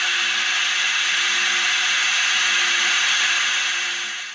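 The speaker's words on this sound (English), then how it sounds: "this is the sound of just air in the lines" Air hisses steadily out of an open RV faucet line during winterization with forced air, a loud continuous bright rush that tapers off slightly at the end.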